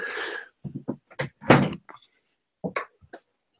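Several irregular knocks and clunks sound close by as a door is handled and shut, with a louder thud in the middle among scattered smaller bumps.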